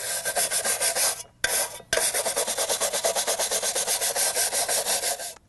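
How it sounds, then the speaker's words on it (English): A wire brush scrubs rust off a shovel blade in quick, rhythmic rasping strokes, broken by two short pauses and ending with a trailing stroke. "you're going to brush in a downward pattern to remove the rust"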